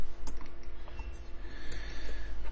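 Computer mouse clicks while saving and running an app during software development, a few sharp, close clicks mixed with keyboard-like tapping over a low steady hum.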